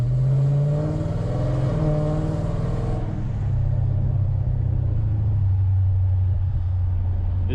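A Dodge Challenger ScatPack engine pulls through city traffic at part throttle, a loud, close, deep rumble rising in pitch for about three seconds, then settling into a steadier low drone as the car cruises.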